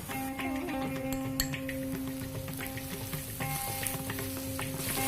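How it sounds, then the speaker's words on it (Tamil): A ground paste of fennel, ginger and green chili frying in hot oil in a pan, giving a steady close sizzle with scattered crackles and a few light stirring scrapes. "இப்போ நம்ம அரைச்சி வச்சிருக்க சோம்பு, இஞ்சி, பச்சை மிளகாய் அந்த பேஸ்ட் நம்ம சேர்க்கிறோம்"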